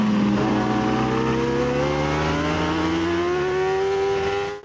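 Moto3 racing motorcycle on a track, its engine wailing loud and near as the pitch climbs steadily with acceleration and shifts gear once before a brief drop at the end.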